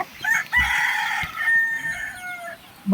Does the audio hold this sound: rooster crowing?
yes